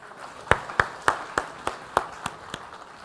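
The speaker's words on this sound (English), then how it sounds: "A big round of applause." Scattered, slow claps from a small audience at a business leader award ceremony, about nine distinct hand claps spaced evenly and fading slightly, with no voices.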